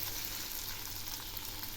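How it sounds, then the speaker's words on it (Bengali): Okra and onions fry in a pan with a dense, even sizzle close up, steady and unbroken, with no talking. "দিচ্ছি ভেন্ডিগুলো, এগুলিও ওর সঙ্গে ভেজে নেব"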